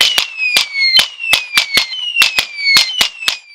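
An electronic firework device with a large AC-powered speaker plays a salute-cannon effect: a rapid string of loud, sharp bangs in close succession, crackling like firecrackers, with no talk over it.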